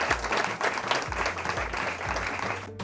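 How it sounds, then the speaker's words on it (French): Applause from a gathering of about a hundred young volunteers at a morning event, steady dense clapping throughout at moderate loudness with no talk over it. "Applaudissez s'il vous plaît."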